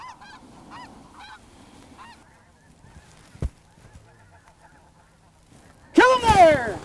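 Snow geese honk in a field in Saskatchewan, with several faint distant calls early on and then a loud burst of close honking at the end, and a person speaks quietly partway through.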